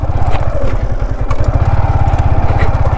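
A Yamaha R15M motorcycle engine putters in a fast, steady rhythmic beat while riding off-road down onto rough ground toward a field, close and loud throughout with no talking.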